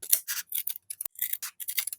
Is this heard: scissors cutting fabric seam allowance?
yes